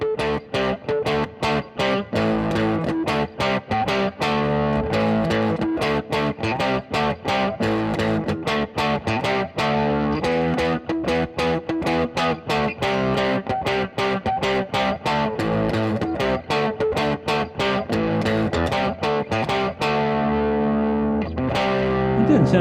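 Electric guitar played through a podcast mixer's clean combo amp effect, a steady run of picked notes and chords with a chorus-like shimmer, continuous and close with no talking.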